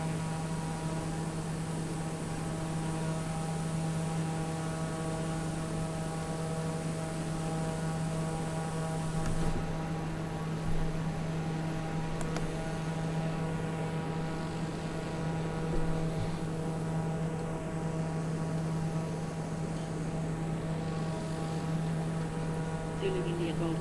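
A TBM 850 coming in to land at dusk in a flight simulator drones on with a constant, humming engine tone that stays even and steady throughout.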